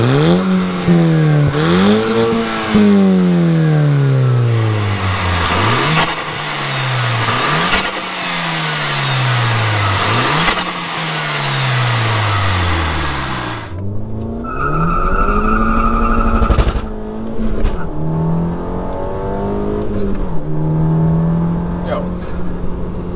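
A VW Golf 5 GTI engine revs hard through repeated rising gear pulls, each climb cut off by a shift, then settles into lower revving with brief bursts.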